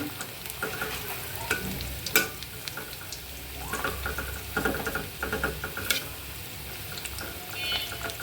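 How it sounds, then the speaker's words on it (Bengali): Beef kebab pieces fry in a pan over low heat, a steady close sizzle broken by scraping clicks and knocks as the pieces are turned one by one, with no talking. "এখন মাংসগুলো উল্টিয়ে দিই দেখেন সুন্দর কালার আসছে"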